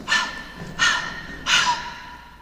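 Breathless panting from someone who has just fled on foot, staged as a radio drama effect for a Halloween horror story: three heavy, close gasping breaths in an uneven rhythm, with no speech.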